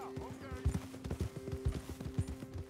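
Horse hooves clip-clopping in Red Dead Redemption 2, a steady rhythmic trot of close, moderately loud hoofbeats under a droning background tone.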